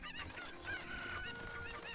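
Cuckoo chickens from Zelda Ocarina of Time in Kakariko Village cluck and squawk in repeated short bursts, game-style fowl calls up close over continuous background music.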